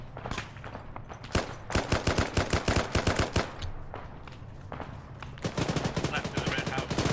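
Rapid gunfire in the ArmA military shooter rattles in dense bursts of sharp, loud shots, with short pauses between volleys and another quick burst near the end.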